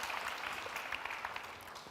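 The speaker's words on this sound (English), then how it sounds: "Let's give a big round of applause to our panelists." Faint, distant applause from the audience for the panelists at a climate change summit, a brief steady patter of clapping.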